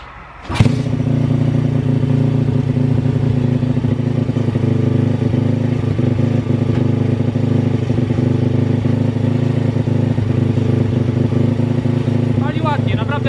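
A PitGang 140XD pit bike engine fires up with a sharp kick and settles into a loud, steady, close idle that runs on evenly, with a faint voice in the background.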